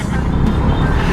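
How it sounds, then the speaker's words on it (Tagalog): Dense road traffic on a busy highway in the Bicol region, a steady broad rumble of many cars, trucks and buses close by, with voices talking over the noise. "Napakaraming sasakyan."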